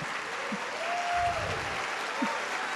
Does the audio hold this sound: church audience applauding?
yes